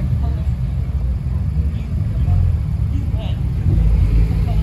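Turbocharged cars passing nearby, a loud continuous low rumble of engines rising toward the end, with a voice talking over it.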